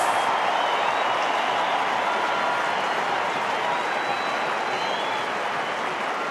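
Crowd applause at an Australian Football League match between the West Coast Eagles and Carlton in 2005, a continuous stadium-wide roar of clapping and cheering that stays loud and even throughout.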